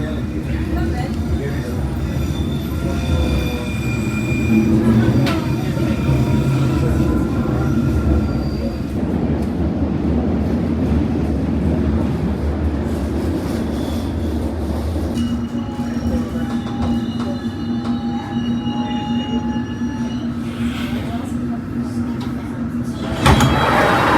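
A London Underground train near Tower Hill rumbles steadily along the rails with a droning hum, occasional squeals and clanks, and faint voices in the carriage.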